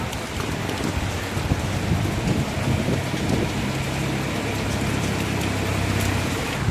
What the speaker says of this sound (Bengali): এখনও মুষলধারে বৃষ্টি হয়েই যাচ্ছে